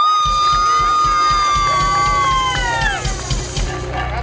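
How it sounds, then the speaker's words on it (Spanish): A lively crowd cheers and whoops loudly throughout, with a shrill sustained shout over rhythmic clapping, continuous and close for a few seconds. "Mary, un aplauso para Mary."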